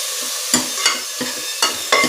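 Ginger, garlic and onion paste sautéing in a pan for a chicken gravy, with a steady frying hiss broken by a few sharp scraping stirs of a utensil, close by and with no talk.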